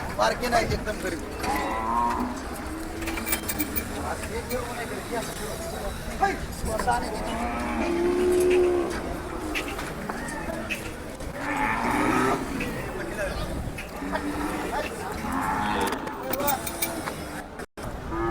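Khillar bulls low and moo repeatedly at a busy outdoor cattle market in Sangola, with voices chattering throughout and animals calling out at intervals.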